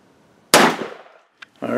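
Mossberg 935 shotgun firing a Remington Nitro Turkey 3.5 inch shell at a 30-yard pattern test, a single sharp, loud blast with a decaying echo, followed by a brief voice.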